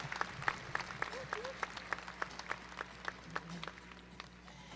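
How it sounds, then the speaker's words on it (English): An arena audience at a Clydesdale draft horse show claps for junior drivers: a steady, fairly even patter of hand claps at moderate distance, with a faint voice and crowd murmur beneath. "would you please give them a nice round of applause, the future of our draft horse industry"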